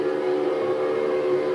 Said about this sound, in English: the Mary is booming out in triumph with her own mighty sirens for the whole of New York to hear